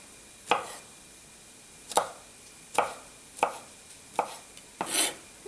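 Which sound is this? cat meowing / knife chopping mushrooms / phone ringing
knife chopping mushrooms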